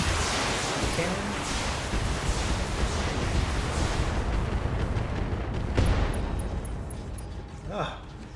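Mech cannon fire in the BattleTech strategy game, a heavy rumbling barrage of booming shots with a sharper impact near the end, then fading, dense and fairly loud throughout.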